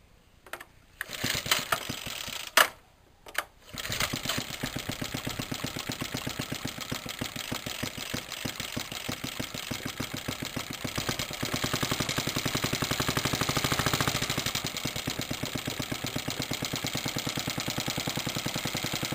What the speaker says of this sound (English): So I'm gonna do a little test run.